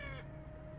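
A single clipped crow caw in the horror game Nightmare House, cut off abruptly and followed by a low steady ambient hum, with no voices present.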